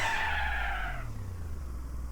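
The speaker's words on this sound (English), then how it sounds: "So I'll brake with the handbrake on because I think that helps me." A car in a racing game skids under handbrake braking, its tire squeal loud and close for about a second before fading into a low engine hum.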